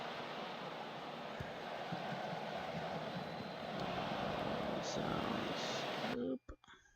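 Crowd noise from a stadium in the video game Football Manager 2016 forms a dense, loud roar that swells toward the end and then cuts off abruptly, with voices heard over it.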